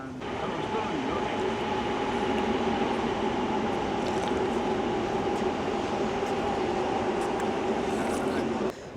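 Light rail train running on an elevated track overhead, heard from the street below as a steady, loud rumbling roar with a sustained tonal hum throughout, fading slightly at the very end.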